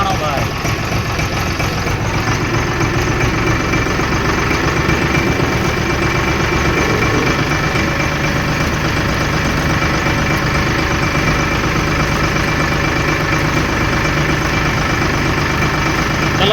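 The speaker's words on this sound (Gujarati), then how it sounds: "હાથમાં આવી ગયું છે ટ્રેક્ટર ને હું ચલાવું છું" A tractor engine runs loud and steady while being driven, a continuous close rumble with mechanical knocking and vibration throughout.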